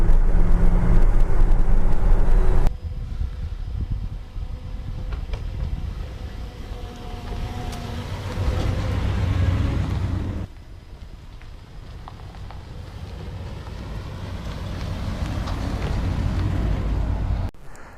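A 1966 Ford F100 Custom Cab pickup cruising along, its steady engine and road rumble running continuously with wind buffeting, a brief drop in level partway through, and no talking.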